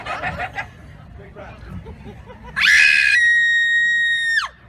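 Faint crowd chatter and laughter at a medieval faire show give way to a woman's loud, long, piercing scream that holds steady for nearly two seconds before cutting off sharply.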